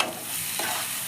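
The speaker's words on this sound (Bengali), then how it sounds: "একটু জল দিয়ে দিয়ে কষে নিচ্ছি।" Spice paste loosened with a little water fries in a pan and is stirred, a steady, close sizzle with a faint scrape of the spoon partway through.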